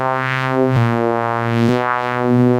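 A synthesized tone is shaped by formant resonance filters, giving a loud, steady buzzy sound with a vowel-like, talking quality that shifts in timbre twice.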